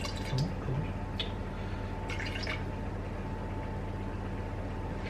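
Water trickles and drips into a jar of bread-dough starter at a home kitchen counter, faint and brief against a steady low background hum, with no voices.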